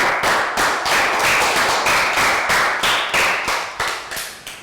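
Children in a primary school lesson give a round of applause, a loud, close series of sharp, uneven claps with rhythmic bursts and no voices over them.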